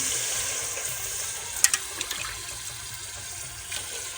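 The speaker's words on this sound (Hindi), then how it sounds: "अब मसाला भुन चुका, मैं डाल रही हूँ पानी" Water poured into a cooking pot after roasting spices for an aloo rice dish: a steady, moderately quiet stream of running water with a few brief splashy spurts, no talking over it.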